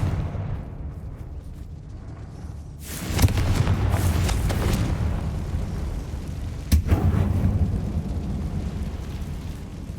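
The Confringo blast spell goes off in Hogwarts Legacy as two loud explosive bursts, a big roaring boom followed a few seconds later by a sharper second crack. Rumbling tails hang between and after them over a low background hum.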